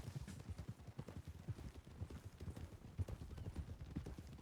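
Horse hooves clip-clop in a steady, rapid rhythm as a horse is ridden in the video game Red Dead Redemption 2 during roleplay, loud and close with no talk over them.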